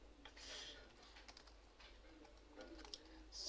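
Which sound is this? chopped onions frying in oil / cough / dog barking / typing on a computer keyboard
typing on a computer keyboard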